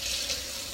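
Water runs steadily from a kitchen tap while pie dough for mini chicken pot pies is being prepared, a brief continuous hiss and splash with no one talking.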